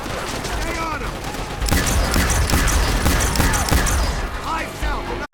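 Sustained machine gun fire crackles through a Call of Duty: World at War firefight, loud and dense bursts with a brief break before the rapid shots resume and carry on under overlapping voices.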